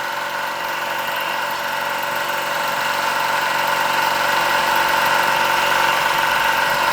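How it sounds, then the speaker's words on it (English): Stirlingkit Retrol SE-03 model steam engine running flat out on a homemade gas burner, a steady, loud mechanical whir and hum with a faint rhythmic vibration, holding an even level throughout with no voices. "let the engine run flat out and maintain that pressure level"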